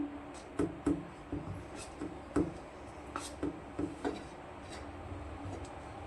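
Vegetable bhajiya batter is mixed in a bowl with a spoon, giving soft, quiet, irregular taps and scrapes against the bowl's side.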